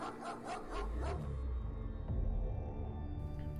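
A dog barks a few times in quick succession, near and fairly loud, the yaps sitting over low background noise and a game soundtrack that fades away afterward.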